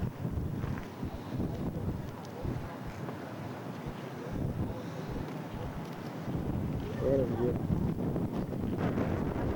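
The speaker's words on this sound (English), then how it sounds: "Windy" Steady wind buffets the microphone throughout, a low roaring rumble with people talking over it, outdoors in California.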